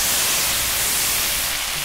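Hot tomato broth poured into a pan of crispy spaghetti for Spaghetti all'Assassina, a loud, steady hiss of sizzling with no pause.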